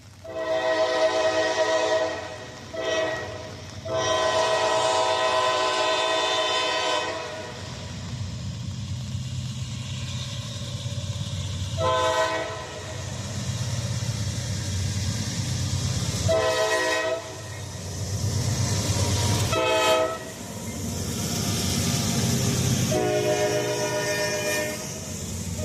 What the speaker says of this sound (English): It is a Norfolk Southern grain train that runs from General Mills